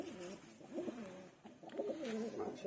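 Tournament racing pigeons coo softly in repeated rolling, throaty phrases close by, a little faint, with low background noise.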